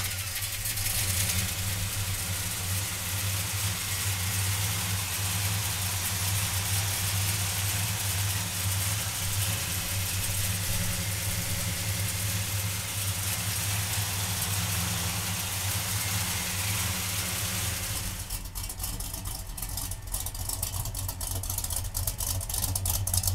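A 1969 Plymouth GTX with a 440 engine idles loud and close with a deep, steady rumble and a constant rattle, settling slightly lower in tone near the end.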